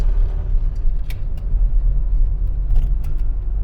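A 1979 Austin Allegro with its 1275cc A-Series engine (about 56 horsepower) drives along in warm weather, giving a steady low engine rumble and road drone throughout with no talk.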